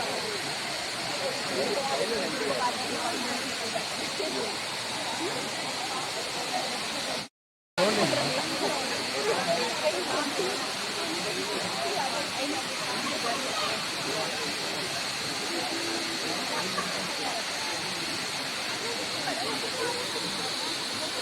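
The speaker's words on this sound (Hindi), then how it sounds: "आ रही है ना झरने की आवाज़। अब मैं बिल्कुल झरने के पास पहुंच चुकी हूँ" A waterfall in Coorg, near a broken wooden bridge, gives a loud, steady broadband rush that runs unbroken throughout, with a brief cut partway through and someone talking faintly over it.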